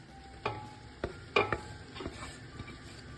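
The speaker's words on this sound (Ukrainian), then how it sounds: "Помішуючи все разом, смажимо до м'якості моркви." Coarsely grated carrot frying with onion and garlic in a pan, heard mostly as a handful of separate utensil scrapes and knocks against the pan over a faint background sizzle.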